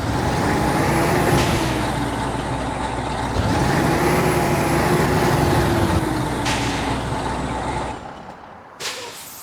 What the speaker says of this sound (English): There's my trailer brake.